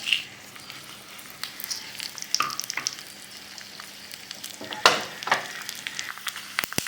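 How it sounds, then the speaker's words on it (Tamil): Mustard seeds, dried red chillies and urad dal crackle in hot oil for a South Indian tempering, with scattered sharp pops and sizzling spits over a low steady fry, a couple of louder bursts near the end. "இந்த கடுகு நல்லா பொரிஞ்சிட்டு கருவேப்பிலை போட்டாச்சு"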